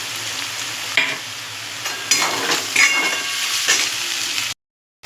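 Potato pieces frying in a pan, a close, continuous sizzle broken by a few scraping stirs, ending abruptly in silence.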